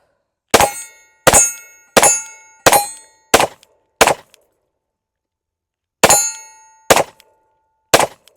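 Sharp metallic clacks of a Glock pistol slide being dropped and snapping forward, eight separate loud hits spaced about a second apart with a gap in the middle, each ringing briefly, no talking.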